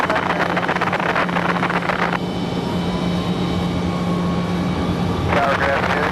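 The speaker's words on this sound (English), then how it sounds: "This is going to be that 737 MAX 8 for American Airlines." An American Airlines Boeing 737 MAX 8 at Raleigh-Durham airport gives a loud, steady jet roar that holds throughout, with a broad hiss that thins in the middle and swells again near the end.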